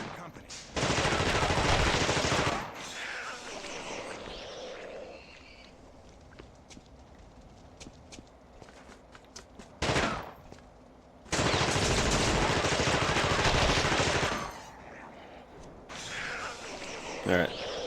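Bursts of loud gunfire in The Thing video game, including shotgun blasts, with two long sustained volleys and a few single shots in between, close and dominant, with quieter in-game sounds between bursts.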